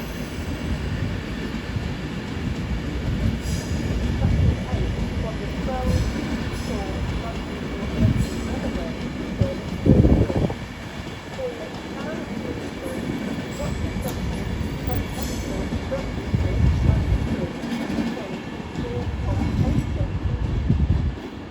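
Class 390 electric train pulling out of London Euston on the West Coast Main Line, a continuous low rumble of wheels and traction with a few clunks, steady throughout, while station announcements and voices sound over it.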